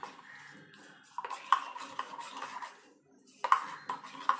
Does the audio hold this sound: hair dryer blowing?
no